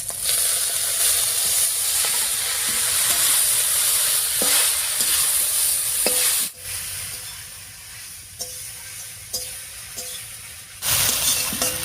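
Leafy greens stir-fried in mustard oil with garlic, green chilli and nigella seeds in a kadai: loud hissing sizzle, a sudden drop to quieter frying marked by spatula scrapes, then the sizzle surges again.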